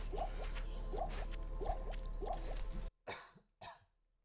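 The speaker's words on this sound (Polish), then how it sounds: "Kaszlnąłem sobie." A streamer coughs twice in quick succession, close to the microphone, after a stretch of rhythmic dripping, squishy sounds from Diablo II gameplay that stop just before the coughs.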